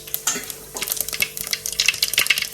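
Mustard seeds and cumin sizzle and crackle in hot oil during tempering, a close, lively run of sharp pops and spits over a steady frying hiss, with no talking.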